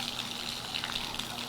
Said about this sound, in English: In my case here, I'm going to turn on the water.